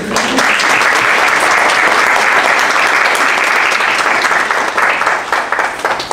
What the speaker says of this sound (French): Donc moi je propose qu'on l'applaudisse.